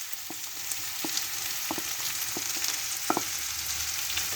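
Brussels sprouts fry in a pan on high heat with a steady, dense sizzle and occasional soft clicks and pops from stirring, close and continuous with no talk.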